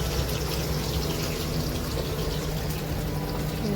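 Tap water runs in a steady, loud, close gush while red chillies are washed under it in a home kitchen, with no voices over it.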